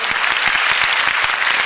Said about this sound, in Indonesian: Yang ikut bersuka cita tepuk tangan dong buat Tuhan Yesus.